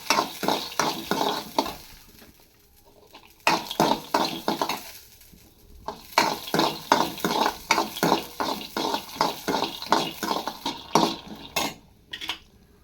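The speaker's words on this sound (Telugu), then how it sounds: "ఇప్పుడైతే అదే కళాయిలో విత్తనాలు అయితే వేసేస్తున్నాను" Peanuts frying in a kadai while a spoon stirs them, giving a run of sharp rhythmic scrapes and rattles over a light sizzle, with two brief pauses and no talk.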